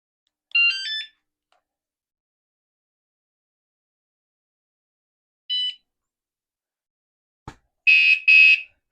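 A bicycle/motorcycle alarm unit gives short bursts of shrill electronic chirps, separated by long silences. A sharp click comes near the end, followed by two louder, longer alarm blasts. No one speaks.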